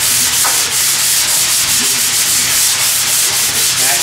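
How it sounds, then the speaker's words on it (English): Steady, loud rasping strokes of a sanding block scraping back and forth over a metal panel, continuing without pause. "Just use the sanding block."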